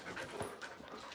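A dog pants in quick, soft breaths close by, in a short burst with no talking.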